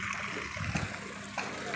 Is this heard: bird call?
no